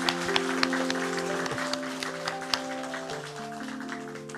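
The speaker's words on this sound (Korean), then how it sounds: "우리 큰 박수 부탁드리겠습니다." A church congregation claps during a festival service, a soft, brief patter of applause heard under sustained musical tones.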